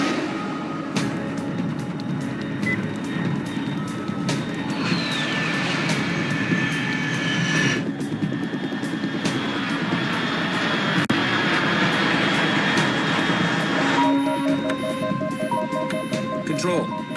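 A jet aircraft droning steadily overhead in Metal Gear Solid 3, a broad, constant engine roar lasting throughout with faint radio-like tones near the end.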